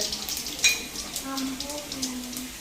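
Mustard seeds and lentils frying in hot oil, a soft steady sizzle with faint crackles, heard close with brief tonal sounds in the background.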